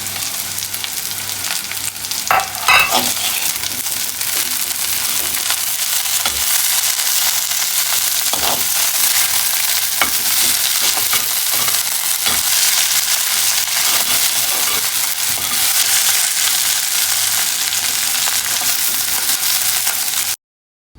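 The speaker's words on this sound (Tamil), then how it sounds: "சரி, நாங்கள் வெங்காயத்தையும் போடுவோம்." Onions sizzle and crackle steadily in a hot pan for a banana flower sambol, a dense continuous fry that stays loud throughout with a few sharper pops and stirring clicks, then cuts off abruptly.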